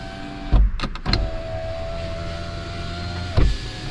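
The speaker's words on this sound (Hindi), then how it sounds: "सेफ्टी विंडो टेस्ट करेंगे" Electric window of a 2025 SERES 3 CKD EV whirs steadily shut during an anti-pinch safety test, framed by a few sharp knocks at the start and a thump as it stops near the end.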